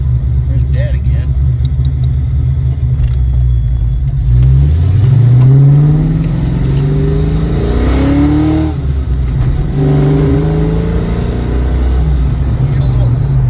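A worn 1986 Ford Capri 302 V8 runs with a loud, low rumble near at hand, revving up and sputtering unevenly as the pitch rises and falls.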